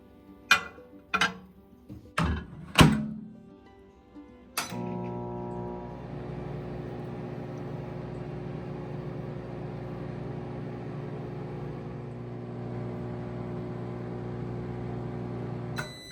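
A microwave oven heating mustard oil in a bowl: several sharp clicks and beeps from the controls, then a steady low hum that runs alone and unbroken to the end.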